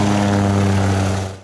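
A steady, loud propeller drone from the piston engine of an Antonov An-2 biplane, heard up close with strong low harmonics, fading at the very end.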